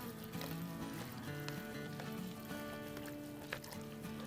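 Chicken pieces being mixed with lemon juice for a marinade in a bowl, giving a steady wet squelching and sizzle-like crackle that runs continuously and fairly close, with no voices.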